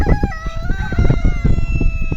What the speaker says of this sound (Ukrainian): А, розоряються півні, співають